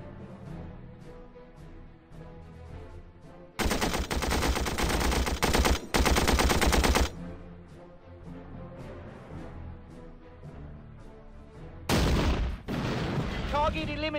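Gunfire and machine-gun fire from the WWII strategy video game Battle Academy erupts in two dense, loud rattling bursts, first lasting several seconds and then a shorter one near the end, separated by quieter game ambience.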